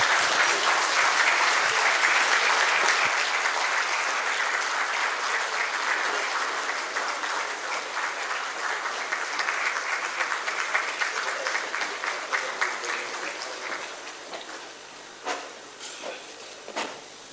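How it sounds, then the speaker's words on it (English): Loud, dense applause from a conference audience rising for a standing ovation at an oil licensing pre-bid conference. It thins gradually into scattered individual claps toward the end. "A standing ovation for her, please."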